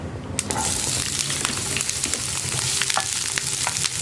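Chopped ginger and onion hit a pan of frying urad dal, with a dense, constant close sizzle and a few crisp pops and stirring sounds over it.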